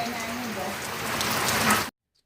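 Dense hiss of rain pours steadily for about two seconds, then cuts off abruptly into silence.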